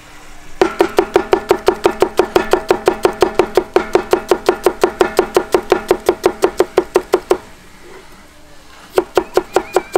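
An onion is chopped on a board with a knife, a quick run of sharp, evenly spaced cuts close by, a short pause, then a few more cuts.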